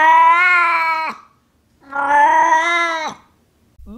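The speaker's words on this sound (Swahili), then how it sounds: "nitakuelezea sababu za paka kulia kama mtoto mchanga" A cat gives two long, loud, wailing cries that sound like a newborn baby crying, each lasting about a second, with a short pause between them, up close and alone.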